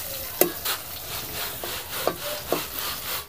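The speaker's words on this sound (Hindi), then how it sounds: "बैंगन भी अच्छे से अब फ्राई कर लेंगे।" Eggplant (brinjal) slices frying in oil for a Bengali-style mustard fish curry, a steady soft sizzle broken by a few scraping clacks of a spatula turning the pieces in the pan.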